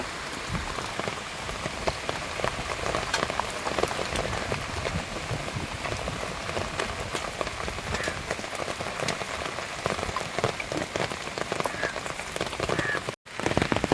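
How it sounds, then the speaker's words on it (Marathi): Monsoon rain falls steadily at Vandri Lake in Palghar, a dense, even patter and hiss on surfaces that lasts throughout with no voices, cutting out for an instant near the end. "पाऊस पडतोय"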